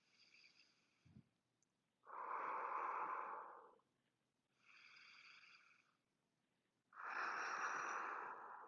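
Slow, deep yoga breaths, with two long inhales and two long exhales in an even cycle, close and soft and heard alone.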